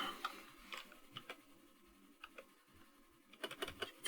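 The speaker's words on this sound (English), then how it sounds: "what is the matter with my typing today?" Quiet typing on a computer keyboard, irregular bursts of soft key clicks with a busier flurry toward the end, close and alone without talk.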